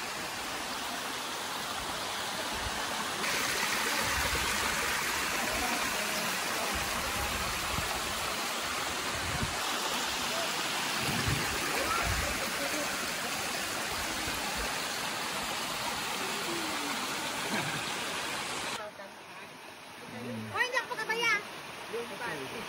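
Kawa-Kawa Falls in Antique, a waterfall and stream roaring as a loud, constant broadband rush close by; the sound drops off sharply near the end.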